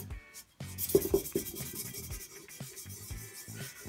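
Close, rhythmic rubbing and rasping strokes of hand wet sanding a painted mechanic chair, quiet and uneven, with a few light knocks.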